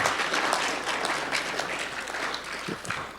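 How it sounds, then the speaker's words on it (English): A conference audience bursts into brief, steady applause after the presenter on stage drops something, a dense patter of clapping lasting a few seconds with no talk over it. "I drop at least 20 times a day, so that I get claps every time"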